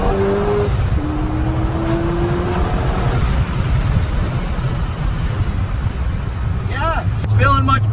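A supercharged C5 Corvette engine drones steadily from inside the cabin on a road drive, loud and continuous, with a voice talking over it near the end.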